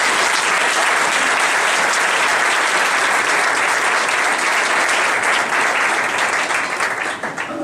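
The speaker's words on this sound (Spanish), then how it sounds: "Un aplauso para él" Sustained, dense applause from an audience at a political event in Valencia greets a speaker, loud and steady throughout before easing slightly at the end.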